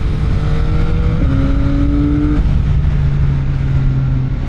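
A CFMOTO 675SR-R motorcycle sweeps through high-speed corners, its engine note loud and steady with tonal pitch shifts as the revs rise, drop and settle, heard alone without talk.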